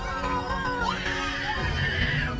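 A woman screams in a tense film scene with people clinging to a tower, a rising, wavering shriek over a dense, noisy background of score and effects.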